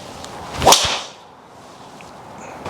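A single sharp crack of a Ping G430 Max golf driver hitting a ball, followed by a faint whooshing tail and quiet ambience.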